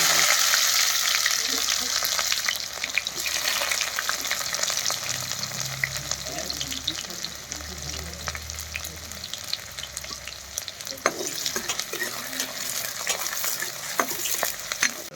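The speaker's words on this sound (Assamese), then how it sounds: "এতিয়া পিয়াজ জলকীয়া আগতে ভাজি কৰি লওঁ" Sliced onions and green chillies fry in hot oil in a wok, a steady loud sizzle with scraping stir strokes running throughout, no one talking.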